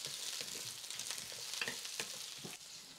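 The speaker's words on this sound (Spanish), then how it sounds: "ya voy a poner aquí la cebolla que piqué. La voy a mover aquí para que se fría bien parejita." Chopped onion fries in hot oil with a soft, continuous sizzle, broken by a few light stirring scrapes, quiet and close with no voices.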